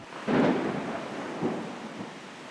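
Torrential rain hisses steadily during a wildfire season while thunder rumbles through it in a loud roll followed by fainter echoes, with no voices.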